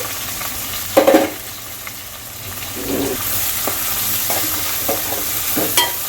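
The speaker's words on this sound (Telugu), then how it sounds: "చూడండి 4 పచ్చిమిర్చి, ఒక 2 పెద్ద ఉల్లిపాయలు, ఈ నూనెలో మంచిగా ఫ్రై కావాలండి." Four green chillies and two large onions frying in oil, a steady sizzle punctuated by spoon stirs and scrapes against the pan, close and fairly loud.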